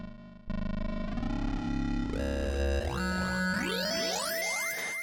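Synthesizer notes with a very short release on a MIDI instrument, layered distorted tones entering in quick succession and stacking into a dense, bright chord with upward pitch sweeps, loud and continuous without talk.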